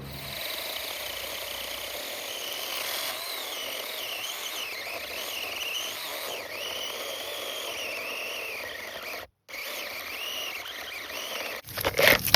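A Wood Ranger mini chainsaw cutting through brush, a steady buzzing motor whine with a wavering pitch that continues for over ten seconds. It breaks off briefly near the end and then comes back.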